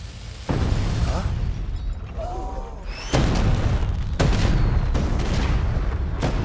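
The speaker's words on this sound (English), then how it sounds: "The fireworks!" Fireworks going off in a series of loud booming bursts with rumbling crackle in between, close and forceful, with a faint whistle rising before one blast.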